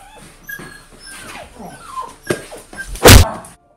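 A dog whimpers and yips in short bursts, up close, followed by a loud thump near the end.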